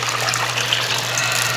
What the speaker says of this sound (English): And I'm just gonna pour this into my slow cooker right here.